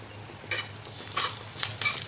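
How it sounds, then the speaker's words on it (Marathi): Onion with garlic and ginger roasting in a pan for a traditional masvadi curry: soft sizzling with a few scraping stirs and light clinks, fairly faint and close, with no voices. "कांदा भाजत आलाय, त्यामध्ये लसूण आणि आलं घालायचे"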